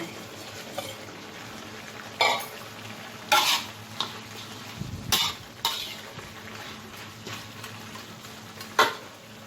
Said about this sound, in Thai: หอม พริกกับใบมะกรูด ใส่ลงไป